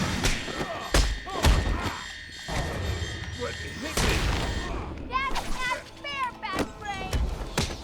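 Bursts of gunfire in Batman: Arkham Asylum, sharp cracks and thumps scattered among excited, chattering voices and squeaky effects, with people talking throughout.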